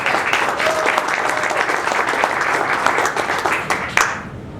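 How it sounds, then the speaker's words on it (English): A breakfast business meeting audience honoring Vietnam veterans and sponsors claps in a loud, sustained round that fades near the end. "One more big round of applause."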